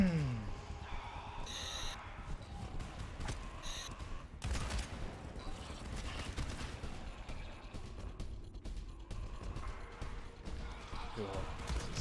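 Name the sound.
gunfire in video game GTFO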